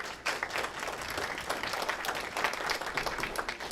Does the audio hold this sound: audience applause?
yes